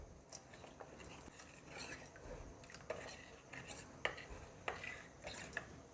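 A spoon clinks and scrapes against a bowl as custard powder is stirred into cold milk, with quiet, irregular metallic taps and swishes close by.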